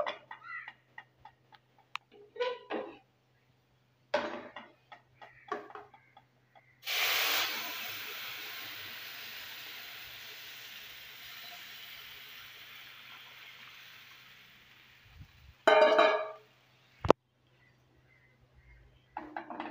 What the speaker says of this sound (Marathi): आता हांव तेतून दूध ऍड करता.